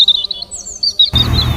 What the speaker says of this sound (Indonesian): Burung tersebut mulai melantunkan sebuah lagu.